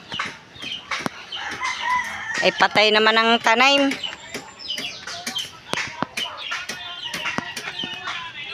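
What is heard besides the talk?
chicken clucking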